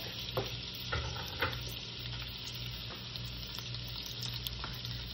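Garlic fries in a hot pan of olive oil and butter, giving a steady close sizzle with soft stirring scrapes and a few light taps, with no talking.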